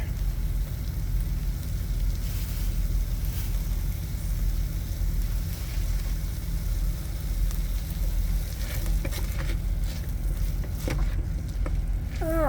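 Onions softening in hot oil in an Instant Pot, cooked inside a truck, give a steady, faint sizzle that holds evenly throughout, with a few small clinks near the end.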